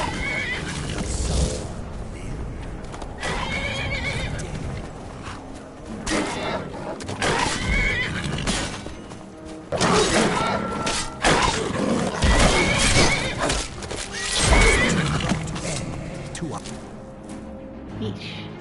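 Horses in Skyrim whinny and neigh amid game effects and hoof clatter, with someone talking over the sounds throughout.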